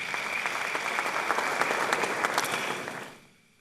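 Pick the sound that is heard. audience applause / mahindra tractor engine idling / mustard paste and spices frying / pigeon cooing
audience applause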